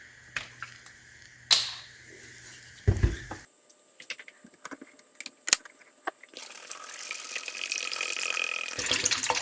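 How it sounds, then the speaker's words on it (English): Brake fluid poured into a vintage Tamiya Bruiser RC truck body, a soft liquid splash and trickle with a few sharp knocks of the container, building to a steady pouring rush near the end. "we'll start dumping the brake fluid in here"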